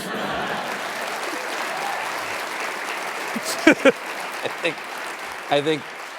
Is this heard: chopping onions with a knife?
no